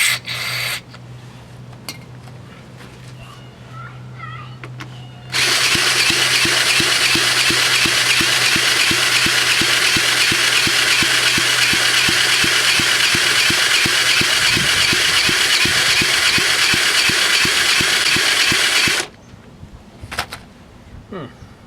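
A 1970 Honda CT70 small motorcycle engine running steadily for about fourteen seconds with a rapid, even putter, loud and close, with quieter shop sounds before and after.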